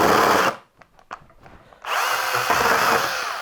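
A Makita 18V cordless mini chainsaw fitted with a 150mm bar whines loudly while cutting a tree branch, briefly dropping to quiet clicks before revving back up into a steady buzzing cut.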